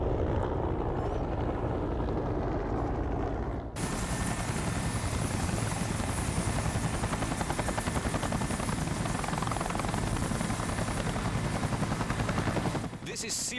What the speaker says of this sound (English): A fleet of Blackhawks and Hueys are heading into base.